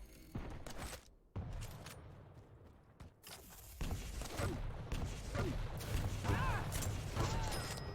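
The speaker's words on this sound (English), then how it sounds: "And he's just crippling him with rockets." Rocket fire in a Quake duel match: a busy stretch of sharp bursts and booms, with footsteps and mechanical clatter, loud and near, repeated in quick irregular succession with no talk.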